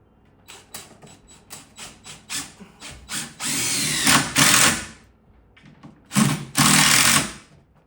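A power drill driving screws with a bit from a bucket of screws during a kitchen demolition, first a string of short whirring bursts, then two longer loud runs of motor whine and grinding, close up with no talk.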